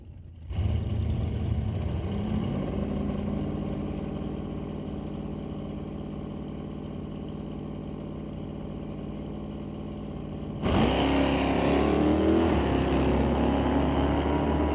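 A 1969 Dodge and a convertible SN95 Mustang staged at a drag strip, a loud steady engine rumble that surges suddenly into a harder, louder roar as they launch, heard from nearby.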